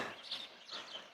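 Birdsong outdoors on a cold, still morning after a night of rain, a few soft chirps and tweets repeating in quick bursts at moderate distance, with no talk over them.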